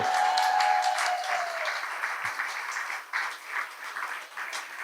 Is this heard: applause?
yes